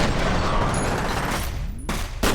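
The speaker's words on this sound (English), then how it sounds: "Oh, I just shot their grenade in there." Loud, dense gunfire and a grenade blast from F.E.A.R. fill the space as one continuous roar, broken near the end by a couple of sharp, close cracks.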